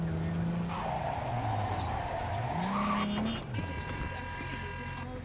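A car in the video game Cyberpunk 2077 revs up through a gear, its engine pitch climbing, dropping and climbing again, with a tire-squeal-like whine above, loud and continuous.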